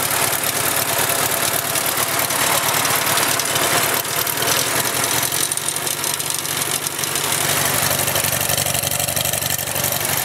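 A Farmall Cub tractor engine idles just after a cold start in 38-degree weather, a close, steady, loping chug with a slight knock that keeps going throughout.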